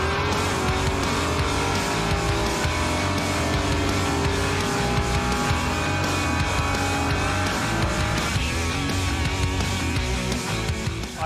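At the Summernats car festival, a car holds a loud, sustained burnout, its engine roaring continuously and its tyres squealing throughout, with no pauses.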